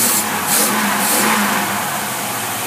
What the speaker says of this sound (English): Now as you accelerate, we're going 20, 25, 30, 35, 40, 45, 50, 55.